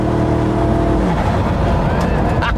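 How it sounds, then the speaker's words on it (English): Koenigsegg Regera hypercar, a V8-powered hybrid with EV drive and heavy turbocharging, accelerating hard with a loud, continuous engine roar and rising pitch, with a voice talking over it. "It's a V8 powered hyper EV, effectively."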